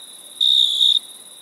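A cricket chirping sound effect plays during a commercial as a steady, high, thin tone that swells briefly louder in the middle and then settles back.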